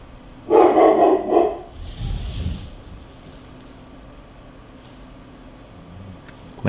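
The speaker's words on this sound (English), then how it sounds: "My dog's going crazy downstairs for some reason." A dog barks in a short, loud burst of several quick barks from downstairs, then a muffled thump follows before the room settles into quiet background hiss.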